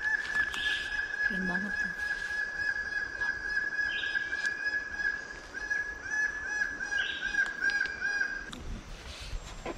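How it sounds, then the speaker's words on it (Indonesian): Birds-of-paradise calling from trees in a forest clearing at morning, a steady strong whistling tone with loud harsh honking and cawing calls over it, and a person speaking briefly. "kicauan dan juga tarian-tarian dari cendrawasih"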